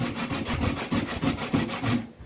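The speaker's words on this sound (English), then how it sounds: "I finish grating the potato" Sweet potato being grated by hand, a close rough rasp repeating in steady strokes roughly three times per second, with no talk.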